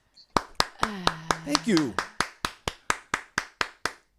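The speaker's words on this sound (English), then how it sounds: "I'm just gonna clap for you, sir." Hand clapping from one person, about fourteen sharp, evenly spaced claps at a steady rhythm, close and loud, with a brief spoken thank-you and laughter-like voice woven into the middle.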